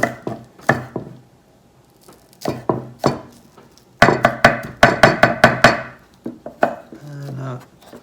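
A knife chops green onions on a cutting board with a rocking motion, producing sharp woody taps that come in short groups, then a quick rapid run of about a dozen strikes, close and loud.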